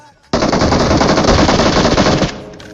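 Sustained automatic gunfire in PUBG Mobile, loud and rapid, as a player shoots at a bot; a steady burst of roughly two seconds with no talk over it.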